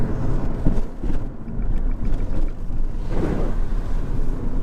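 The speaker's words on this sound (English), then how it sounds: "Big splash." A 2017 Abarth 595 Competizione hatchback drives through standing water, with continuous road and wind rush and a broad spray swelling about two-thirds of the way in; no one speaks.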